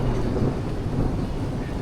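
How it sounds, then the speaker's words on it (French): Thunder from a storm beside a hotel pool, a loud, continuous low rumble that fills the whole moment without a break, with no speech. "Il y a l'orage."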